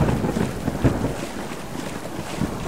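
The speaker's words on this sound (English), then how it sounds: "when it rains like this" Steady heavy rain with low rumbling thunder in the Subsistence survival video game, a continuous wash of noise with a few soft low booms and no talking.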